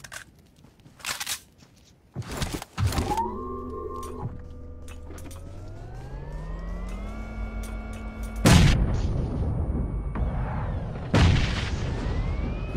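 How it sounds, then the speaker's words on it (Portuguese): In PUBG Mobile, a grenade explodes with a loud, sudden blast after a rising engine-like whine, and a second heavy boom follows a few seconds later. "Tem granada aqui agora."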